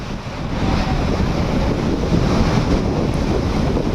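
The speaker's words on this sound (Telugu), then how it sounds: "తెలుగు రాష్ట్రాల్లో భారీ వర్షాలకు కృష్ణమ్మ పరవళ్లు తొక్కుతోంది" The Krishna river in flood after heavy rains gives a loud, continuous rushing roar, with wind buffeting the microphone throughout.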